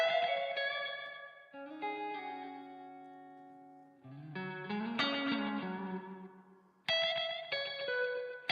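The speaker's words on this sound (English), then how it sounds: "Let's add some reverb." Sustained electric guitar chords and notes ring out through the Space Echo Machine Outer Space 2 iOS tape echo app with two heads running plus reverb, each strum trailing off into repeating, fading tails.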